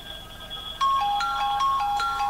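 A phone ringtone mixing a kookaburra call with tubular bells, a short run of bright bell-like chimes with laughing bird tones that starts abruptly and repeats in quick succession.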